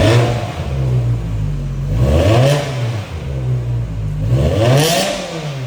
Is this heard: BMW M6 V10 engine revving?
yes